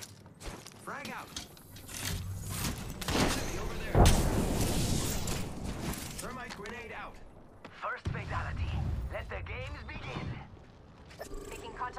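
A frag grenade blows up in Apex Legends with a heavy, booming blast near the middle, surrounded by scattered game mechanics and gunfire while a person talks throughout.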